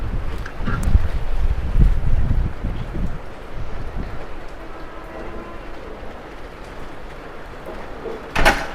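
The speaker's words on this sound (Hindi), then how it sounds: "कितनी हवा चल रही है" Strong wind gusts roar across an open field during light rain, a continuous loud rushing buffet with heavy low rumble from the wind hitting the microphone, surging and easing throughout, with no talk.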